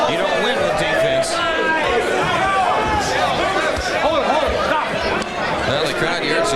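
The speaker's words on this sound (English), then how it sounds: "the crowd, you heard some booing there" Boxing arena crowd booing, a dense, sustained roar of voices and jeers from the audience filling the whole stretch at steady loudness, with chatter mixed in.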